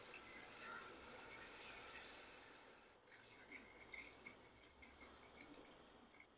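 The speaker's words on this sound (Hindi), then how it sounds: "अब गोश्त को गलाने के लिए इसमें पानी डाल देंगे" Water, about two jugs, pours steadily into a pot of beef for Bannu pulao, a rushing splash that swells and then eases into softer, irregular trickling and sloshing.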